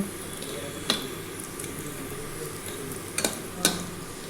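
Boiled elephant foot yam fried and stirred in a pan, a faint steady sizzle broken by a few sharp scrapes and taps of a utensil against the pan.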